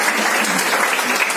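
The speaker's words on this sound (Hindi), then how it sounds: "तालियां इनके लिए होनी चाहिए।" A Women's Day event audience claps in a dense, loud, even burst of applause lasting just over a second, heard up close and filling the hall.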